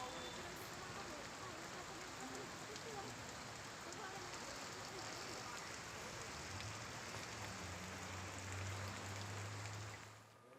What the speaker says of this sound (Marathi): पुणे शहरात काही ठिकाणी तुरळक पाऊस बरसतोय